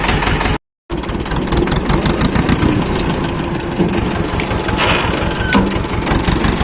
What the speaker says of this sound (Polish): Ciągnik chodzi